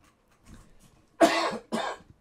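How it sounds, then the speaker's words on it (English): A person coughs twice in quick succession, two loud, close bursts after a few soft background murmurs. "Oh, excuse me, it's a cough."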